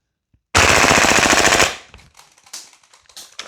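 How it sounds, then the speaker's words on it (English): Double Eagle JAKL airsoft gas blowback rifle firing full auto, a single loud rapid burst lasting about a second, followed by a fading echo and faint clicks and handling noises. "we'll see if we can get rid of the rest of the mag on auto and see what it does"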